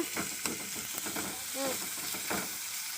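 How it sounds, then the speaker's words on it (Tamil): Potato, chana dal and ginger garlic paste being sautéed in a pan for a home-style poori kurma, with steady scraping stirs over a soft, continuous sizzle, close and moderately loud with no talking. "நல்லா வதக்கி விட்டுங்க"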